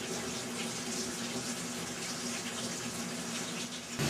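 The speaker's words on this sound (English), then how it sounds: "So we can turn the taps on, Dave." Water runs steadily from taps in a pub, a continuous close hiss and splash with no talking, ending in a brief louder burst.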